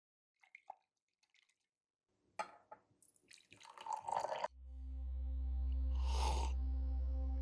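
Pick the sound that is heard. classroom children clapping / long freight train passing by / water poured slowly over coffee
water poured slowly over coffee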